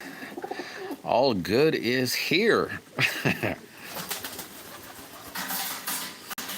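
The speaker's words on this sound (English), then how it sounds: "Yeah, they're all pigeons." Pigeons coo softly in a repeated, warbling rhythm close by, while someone talks over and between the calls.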